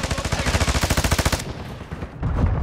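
Rapid automatic gunfire in Call of Duty, a fast even burst of about fifteen shots lasting over a second, then a muffled rumble, loud and close.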